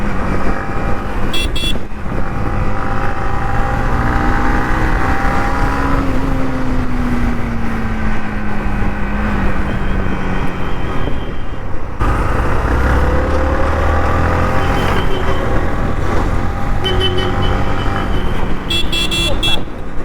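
A Yamaha R15 motorcycle is ridden, its engine droning continuously with shifting pitch as it accelerates, while someone talks over the riding noise throughout.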